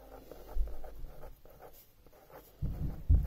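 Chalk or marker writing on a board, soft scratchy strokes in short irregular bursts, close and fairly quiet, ending with a couple of heavier taps.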